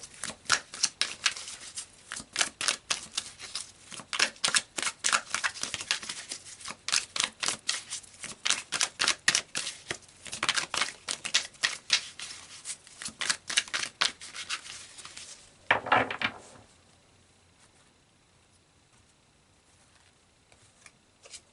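Tarot cards being shuffled by hand, a long run of rapid, crisp riffling flicks at close range in uneven bursts, ending with a final burst and then near silence.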